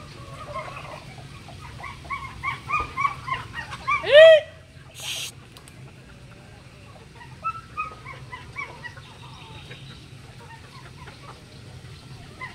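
Farmyard ducks calling in bursts, quacking nearby, with one loud squawk in the middle and quieter calls afterward.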